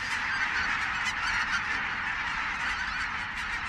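A dense flock of geese honks continuously over grassland, many overlapping calls forming a steady loud chorus with no pauses and no voices.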